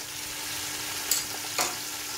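Garlic and chicken frying in a pot for pulao, a steady low sizzle with two brief stirring scrapes, close by and with no talking.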